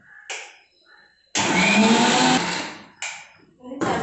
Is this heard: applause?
no